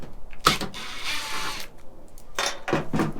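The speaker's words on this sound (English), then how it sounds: "you get yourself an 8mm socket, undo these two bolts" A ratchet with an 8mm socket works on a Ford Maverick's taillight bolts, giving two short bursts of clicking separated by a pause and low handling noise, close and fairly quiet.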